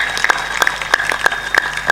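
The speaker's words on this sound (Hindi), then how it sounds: "जोर से ताली बजा दो सांसद के आगमन में" An audience claps in welcome for a member of parliament at a religious discourse gathering, a brief loud burst of scattered claps over a steady background tone.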